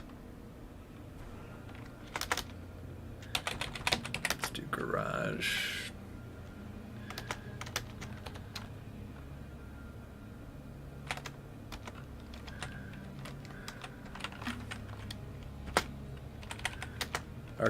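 Computer keyboard typing in bursts of quick clicks, close and fairly quiet, while a streamer talks intermittently over a low background hum.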